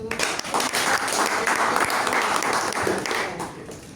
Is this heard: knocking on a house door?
no